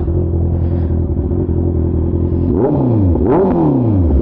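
A Honda CB650R motorcycle fitted with an aftermarket exhaust and its catalytic converter removed idles with a deep, loud rumble, then is blipped through two quick rising revs that fall back to idle, close by.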